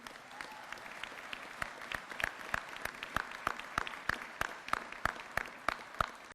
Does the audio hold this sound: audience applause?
yes